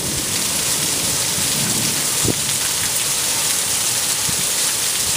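Heavy rain pours steadily during a thunderstorm after lightning struck a nearby transformer, a dense hiss of falling water with a brief sharp crack of thunder partway through.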